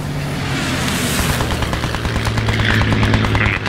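Heavy gunfire and booming blasts in a war video game, with a tank firing at the player: a dense, continuous barrage of cracks and thuds, loud and close, with no talk over it.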